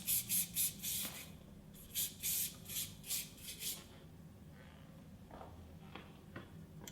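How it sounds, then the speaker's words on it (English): Schwarzkopf Silhouette Max Hold hairspray hisses from a can in a rapid series of about eight short close bursts, followed by quieter rustling and handling. "I'm going to apply the Schwarzkopf Silhouette Max Hold Hairspray."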